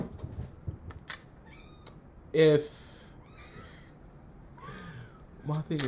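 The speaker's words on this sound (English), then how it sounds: "Because the cat is going crazy right now" A female cat in heat lets out one loud, drawn-out meow in a room while people talk, with a shorter cry near the end.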